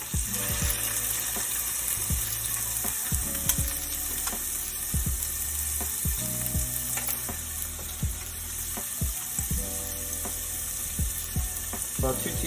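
Whole cloves and cardamom seeds sizzle steadily in hot oil in a pan while being stirred, a loud continuous crackle with scraping knocks from the spoon throughout, for a vegetarian biryani.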